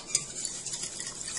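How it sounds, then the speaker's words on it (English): A fork lightly stirs chia seeds into liquid for chocolate banana chia pudding, soft close scraping and clinks against the bowl, quiet and brief with one sharper tap near the start. "Then mix it lightly with a fork until you can see that they're all wet."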